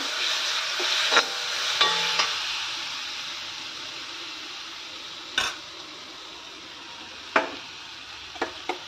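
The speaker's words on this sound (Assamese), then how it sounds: "সৰিয়হৰ কেঁচা ভাৱটো গোন্ধটো যোৱালৈকে মই অকণমান টাইম ভাজিমে" Mustard paste frying in a pan, a steady low sizzle broken by a few sharp clicks and taps of a utensil against the pan, close and fairly quiet, with no voices.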